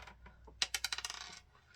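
A die rolled for a wrestling card game clatters across a hard surface in a quick burst of small tumbling clicks that slow and settle, with a single sharp tap near the end, close and fairly quiet.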